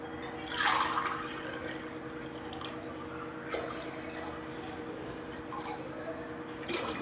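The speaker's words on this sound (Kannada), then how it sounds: "ಇನ್ನೊಂದು ಗ್ಲಾಸ್ ಹಾಕಕತ್ತಿದ್ದೆ ನೋಡಿರಿ ನೀರು." A glass of water pours into a pot for cooking rice, followed by faint drips and small splashes against a quiet kitchen background with no voices.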